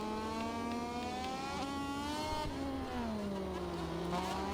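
Racing motorcycle engines in a Moto2 video game at the Losail circuit wail steadily, their pitch dropping as the bikes brake hard into a turn, loud and continuous with no talk.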